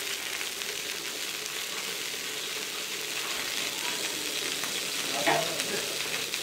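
Oil sizzles in a frying pan while chicken cooks, a loud, steady crackle that carries on throughout, with a brief sharper clatter near the end.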